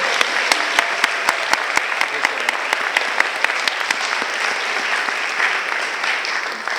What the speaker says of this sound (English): Please, another round of applause to the champion of the debate team.